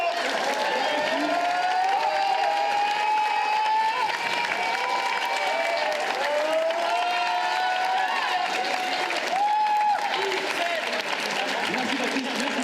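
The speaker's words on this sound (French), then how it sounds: "je pense qu'on peut applaudir toutes les personnes qui ont participé" Audience applause for the participants of a student arts society stage show, a steady broadband wash of clapping and crowd noise lasting throughout, with tonal voices or cheers rising above it.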